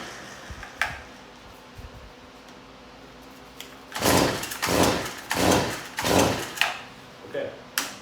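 A broken Stihl FS55 gas trimmer that has trouble starting is pulled over: several loud, rough rasping bursts in quick succession that end in a brief firing. Someone talks quietly before and between them.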